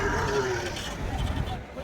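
Cattle and bulls at a busy livestock market in Manapparai, Tamil Nadu, with a short low moo amid crowd murmur and someone talking over the brief, faint scene.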